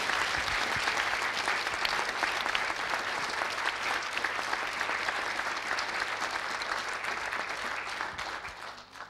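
Warm applause from a symposium audience thanking translators at a museum discussion panel, steady clapping that holds for several seconds before tapering off at the end.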